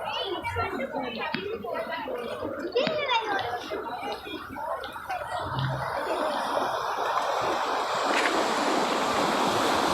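Sea waves wash onto a beach in Sri Lanka, a continuous rushing surf that swells louder toward the end, mixed with wind buffeting and people talking over it.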